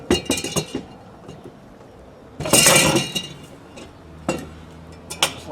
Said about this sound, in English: we can jam a screwdriver in here and just sort of